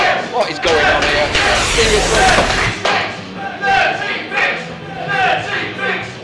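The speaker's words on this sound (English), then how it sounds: "Listen to this crowd." Wrestling arena crowd cheering and jeering, loud swelling roar and shouting that peaks then breaks into rhythmic bursts of chanting, with people talking over it close by.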